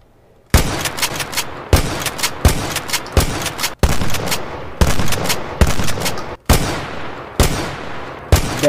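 Video game gunfire from burst-type guns and an AA-12 shotgun in Minecraft's Decimation mod, loud sharp shots fired in rapid clustered bursts, one after another almost continuously, each with a brief ringing tail.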